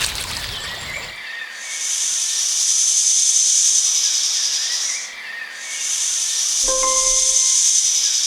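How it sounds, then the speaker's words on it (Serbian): A snake hisses in two long, loud, steady breaths, close up, each drawn out for several seconds with a short gap between them, and a faint tone in the background. "Kakav zvuk zmija proizvodi?"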